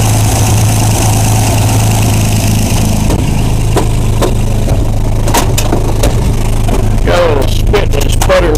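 A 1963 GMC 3/4 ton pickup engine idles steadily and close by, a low continuous rumble with scattered clicks and knocks on top and no talking.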